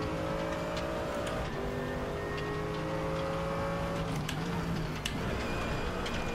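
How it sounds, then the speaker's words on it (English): A race car engine in RaceRoom Racing drones steadily with gliding tonal whine as revs rise and fall, punctuated by sharp ticking clicks and gear changes, at a moderate level with no talking. "Listen to the engine sounds. Fantastic. Really immersive, the sound in this game."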